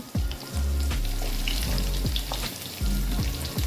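Sweet potato and other vegetables drop into a hot pan, setting off a loud close sizzle with rhythmic stirring scrapes and bursts of crackling oil.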